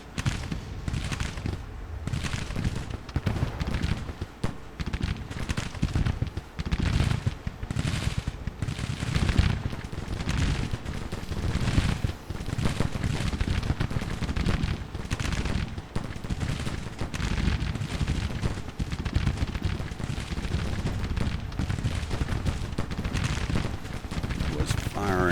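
Musket volleys and artillery in the Civil War strategy game Grand Tactician crackle nonstop for the full stretch, a dense, loud rolling fusillade with repeated bursts and no break.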